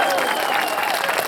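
Audience at an outdoor folk music concert applauding, dense loud clapping from a crowd, with some cheering mixed in, throughout the brief moment.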